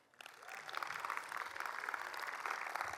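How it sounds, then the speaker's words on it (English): An audience claps at the Entomology Games final round at Entomology 2025, a spread-out crowd applauding together. The clapping starts softly, swells within the first half-second, then holds as an even, continuous patter at moderate loudness. "give yourselves a round of applause for being here"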